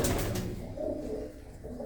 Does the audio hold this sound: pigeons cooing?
yes